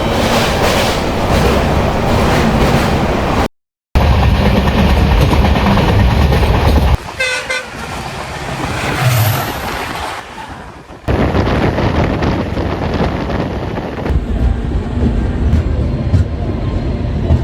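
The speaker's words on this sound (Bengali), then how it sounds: "ফাইনালি দার্জিলিং মেলে করে চলে আসলাম নিউ জলপাইগুড়ি স্টেশন।" Darjeeling Mail train pulling into New Jalpaiguri station: loud continuous rumble and rattling wheel clatter, with a brief cut and a quieter stretch midway, then the heavy rolling noise returns.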